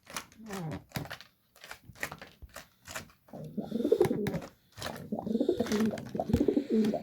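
A pet pigeon coos in soft, intermittent bursts up close, with some rustling and light handling noise between the calls.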